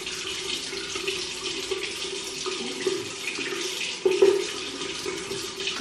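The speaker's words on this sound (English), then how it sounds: "Put some water on the palm of my hand" Water runs from a tap in a steady, close stream during a skincare routine, with a brief louder splash near the end as hands move under the flow.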